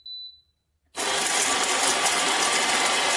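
Ollygrin electric conical burr coffee grinder grinding beans, starting after a brief click and a pause, then a loud steady whirring grind that runs without a break and with no voices.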